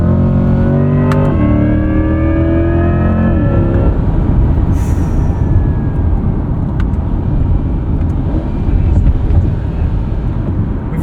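A 2024 Chevrolet Corvette E-Ray's 6.2-liter V8 roars loudly under acceleration with a rising electric motor whine layered over it, then settles into a steady, heavy rumble.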